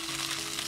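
Sausages fry in a pan, giving off a steady, close hissing sizzle that holds evenly throughout the short moment.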